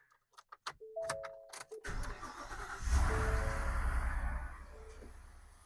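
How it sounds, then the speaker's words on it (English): A few clicks and a starter crank as a car is jump-started with a portable jump starter, then the engine catches and settles into a steady running rumble that holds to the end. "We're ready to start the engine."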